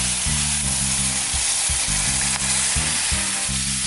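A paella pan sizzles loudly and continuously as seafood stock is added, a steady frying hiss with no talking.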